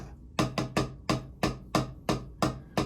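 Sharp, dry snare drum strokes in a steady sixteenth-note rudiment pattern, grouped in quick bursts with brief gaps, close and crisp with no talking.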